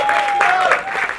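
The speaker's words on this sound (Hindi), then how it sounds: "एक बार जोरदार ताली होनी चाहिए" Audience applause at a song launch event, steady dense clapping from a crowd filling the whole moment, with a bright tonal hum running underneath.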